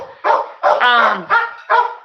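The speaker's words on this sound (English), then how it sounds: "Y'all hear my dog Jay side yard barking." A dog in a side yard barks four times in a quick, loud, close sequence, with a short whining yelp in the middle.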